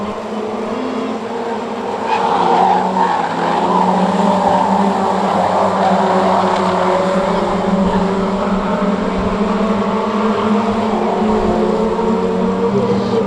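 Stock rod race cars at the Cowdenbeath racewall on an evening meeting roar past in a continuous, layered engine din that swells louder after the opening seconds and stays strong, with several cars overlapping.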